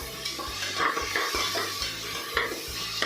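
Tomato frying in a pan for capsicum bath, a steady close sizzle with repeated spoon-stirring scrapes against the pan every half second or so, no voices.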